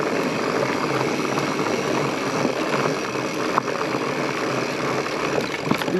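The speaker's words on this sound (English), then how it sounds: "This is a cute little creek." A small creek flows beside a trail in Alaska, giving a steady, full rush of water that stays even throughout with no pauses.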